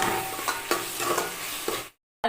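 Onions with a little salt sauté in a pan, a loud close sizzle punctuated by a few sharp scrapes of a spatula stirring, then a sudden cut to silence before a brief return of sizzling.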